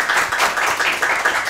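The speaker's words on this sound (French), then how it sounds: "On applaudit ça, s'il vous plaît." Audience at a school quiz competition applauding, a short burst of brisk, fairly loud clapping from a group of people.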